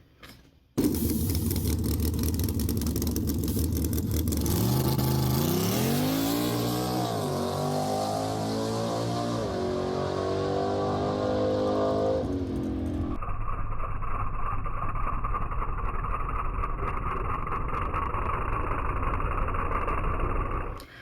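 A Ford Mustang drag car makes a run, its engine exploding into a loud roar, climbing through several sharp shifts, then settling into a steady high drone for the rest of the pass.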